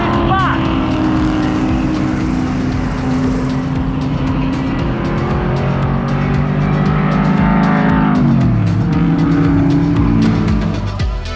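Race cars, including a Honda Civic EK, roar past at a 24 Hours of Lemons endurance race at Thomson, loud continuous engine drone with rising and falling pitch as cars pass close by.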